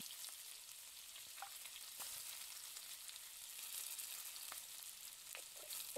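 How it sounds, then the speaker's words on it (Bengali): Chopped tomato and green chilli frying in oil with browned garlic, a faint, even sizzle throughout, broken by a few light ticks and pops, with no talk. "রসুন আমার লাল হয়ে গেছে, এবার আমি টমেটো কাটা দিয়ে দেবো।"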